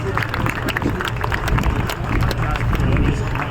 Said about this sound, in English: Huge round of applause, please.